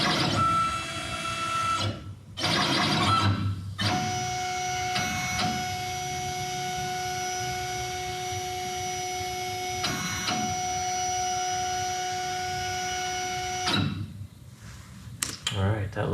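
A CNC plasma cutting table making a dry run with the cutter off, its gantry motors giving a steady whining drone with sustained tones for about ten seconds, framed by brief bursts of movement at the start and end.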